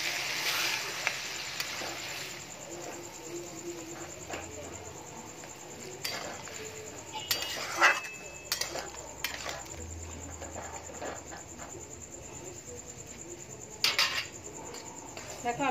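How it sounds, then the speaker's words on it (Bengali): A small spoon scrapes and clinks against fried pointed gourds while scooping out their seeds, producing a few soft, scattered taps over a low kitchen background hum. "সেই পটলগুলোর বীজগুলো আমি এরকম ভাবে এই চামচ দিয়ে আমি উঠিয়ে নিচ্ছি"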